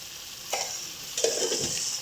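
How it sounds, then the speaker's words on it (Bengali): Spiced masala mixed with tomato paste bubbling in a pan, a continuous quiet sizzle broken by a couple of soft stirring scrapes, heard up close. "দেখো এটা সুন্দরভাবে ফুটছে"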